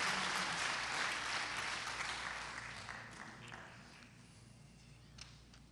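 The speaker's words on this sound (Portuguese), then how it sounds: "dê uma salva de palmas a esse Deus que tudo pode fazer" A church congregation claps together at a family cathedral service, dense and loud at first, then thinning and fading toward the end.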